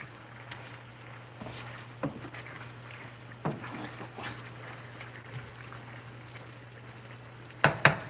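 Food cooking on high heat in a Teflon pan is stirred with a plastic-tipped utensil: a faint, steady bubbling hiss broken by soft scattered taps and scrapes, with a couple of sharper knocks near the end.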